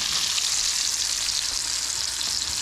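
Battered steak fries in hot oil in a pan at a cabin, giving a steady, loud, close crackling sizzle that never lets up. No one speaks over it.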